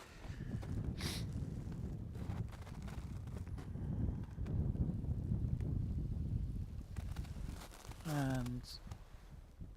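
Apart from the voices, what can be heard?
wind blowing outdoors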